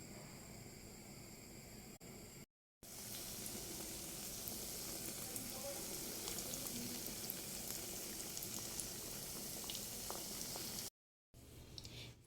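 Donuts frying in hot oil give a steady, dense sizzle with a faint bubbling. It runs on without a break except for two short silent cuts, and nobody speaks.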